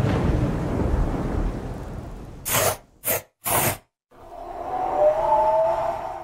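Rumbling thunder from a storm cloud, a long low roll that fades, then a few sharp cracks in quick succession, a brief silence, and a swelling rumble returning with a faint tone beneath it.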